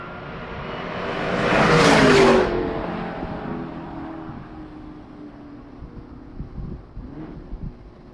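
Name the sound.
race car cornering at Summit Point racetrack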